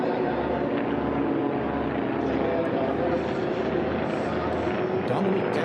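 A Formula One class race plane rounds the final pylons at the 2023 National Championship Air Races, its propeller engine droning steadily and loudly throughout, with a commentator talking over it.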